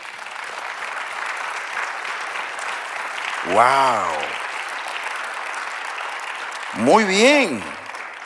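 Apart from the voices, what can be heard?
audience applause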